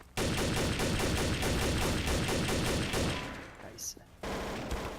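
Rapid continuous gunfire in the game Trouble in Terrorist Town rattles loudly and close, a dense burst of shots that tapers off, then resumes after a brief gap.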